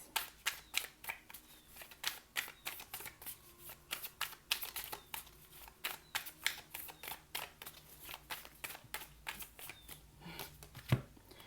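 Rapid, steady riffling of tarot cards being shuffled over and over, crisp papery flicks in a quiet room, close by.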